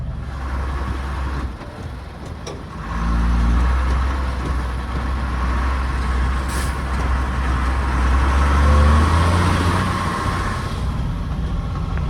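A car engine idles with a low, steady rumble close by, its drone swelling slightly partway through, heard alone without any talking.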